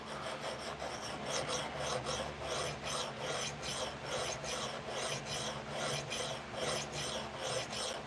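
A CPM Cruwear steel knife blade scrapes in steady, rhythmic back-and-forth strokes across a narrow half-inch sharpening stone, a close, quiet rasping with no voices.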